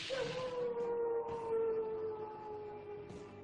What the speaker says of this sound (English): Coyotes howl at the moon to communicate with other coyotes.